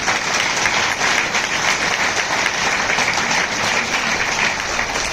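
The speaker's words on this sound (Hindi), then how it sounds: "मैं चाहता हूं एक जोरदार तालियां हस्बैंड वाइफ दोनों के" Dense, steady applause from a large audience at a gathering in Nalasopara, sustained at an even level with no voices standing out.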